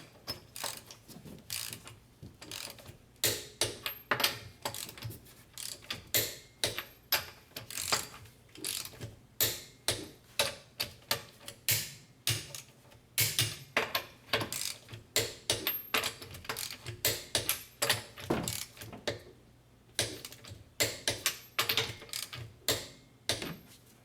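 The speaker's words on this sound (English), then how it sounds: "So now I'm gonna torque the lug nut." Torque wrench tightening lug nuts on a Hyundai Santa Fe wheel to 79 foot-pounds after a rear brake job: a long run of sharp ratcheting clicks in quick bursts with brief gaps, close and moderately loud, without speech.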